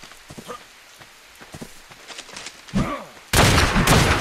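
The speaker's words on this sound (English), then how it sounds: "Are you shooting him up top?" Gunfire in the video game ARK during a player-versus-player fight: scattered sharp shots and crackles, then a sudden dense, sustained burst of rapid fire, loud and close, with a voice speaking briefly in between.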